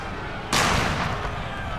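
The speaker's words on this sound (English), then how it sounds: "Got an explosion there right in the middle of everything." In a video game battle recreating the Anglo-Zulu War at Isandlwana, an explosion erupts with a sudden loud boom over a continuous din of gunfire and battle noise, then a long rumbling decay.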